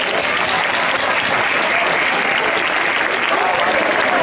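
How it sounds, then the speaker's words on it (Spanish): Sustained applause from a graduation ceremony audience, clapping for the school's management team, dense and steady throughout at close range with no talk over it. "Primeramente quería pedir un aplauso al equipo directivo por su labor encomiable"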